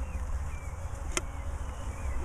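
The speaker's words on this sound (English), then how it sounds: "then you can see all the bees" Bees in a top bar hive give off a faint, steady buzzing hum, with one sharp click partway through and no voices over it.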